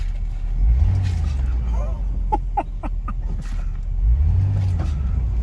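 The engine of a 2002 Mercedes-Benz CLK 430 AMG runs steadily nearby with a low, continuous hum that rises slightly at the start and end, while voices are heard over it.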